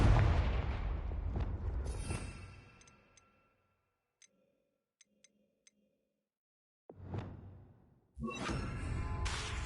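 A Confringo fire spell in Hogwarts Legacy bursts with a loud booming blast that fades into a few faint ticks, then another whooshing hit and a loud rumbling burst follow.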